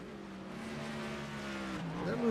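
Race truck engines at Watkins Glen in iRacing, a steady droning whine that climbs toward the end as the trucks accelerate through the turns, moderately close, under a commentator's voice.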